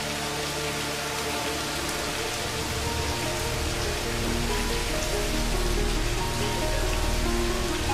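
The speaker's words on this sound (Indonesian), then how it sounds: "Apalagi hujan seperti ini, Bu." Steady rain falls and hisses over surfaces, a dense, even wash of drops that holds constant and swells slightly louder toward the end, with no voices or other sounds.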